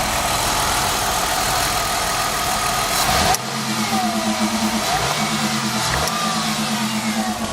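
A 2001 Mercury Cougar with a V6 engine idles steadily and close by, a constant low exhaust rumble that shifts slightly in tone partway through, with faint beeping tones over it.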